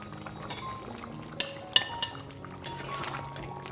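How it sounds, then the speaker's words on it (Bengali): Fried potatoes are tipped into a pot of mutton curry, giving a few clinks of utensil against metal and soft wet shuffling sounds, fairly close and quiet. "এবার আমি এর মধ্যে ভাজা আলুগুলো যোগ করে দেবো"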